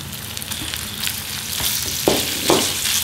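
Chicken fries in oil, sizzling steadily in a pan, with occasional louder pops and spatters and a few stirring scrapes, close up and with no talking.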